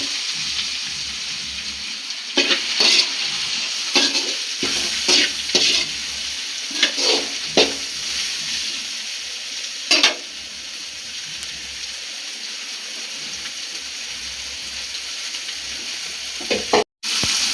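Meal maker soya chunks stirred in a hot pan for a Tamil-style kurma, with a steady frying sizzle and repeated scraping strokes of the spoon, no voices.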